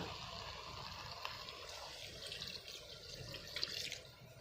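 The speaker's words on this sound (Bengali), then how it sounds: "তারপর দেবো জল।" Water poured into a pan of fried masoor dal, a faint splashing trickle under low background noise, brief and soft, with no voices.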